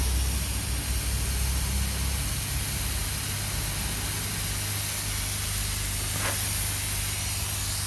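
A hot air rework nozzle set around 450 degrees blows a steady, even hiss of air, continuous and close with no pauses or talk.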